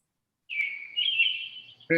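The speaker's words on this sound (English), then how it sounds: "I can hear his birds." A bird chirps and whistles in clear, sustained tweets with a brief sharper note at the end, fairly close against a quiet background.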